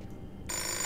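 A telephone rings in the video game Fahrenheit (Indigo Prophecy Remastered), the ring kicking in abruptly halfway through and carrying on steady and fairly loud over low background noise.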